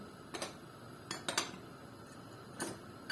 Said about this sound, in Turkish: Bunu güzelce bir çırpalım böyle.